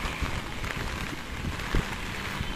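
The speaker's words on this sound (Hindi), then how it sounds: "अब पूरा दिन हो रहा है तभी भी बारिश है ना चालू है" Steady continuous rain during a long spell of monsoon weather in Rajasthan, a broad even hiss with occasional heavier drops, moderately loud and unbroken by speech.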